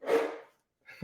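A single short, breathy sneeze close by, followed by a brief silence and then the start of a voice.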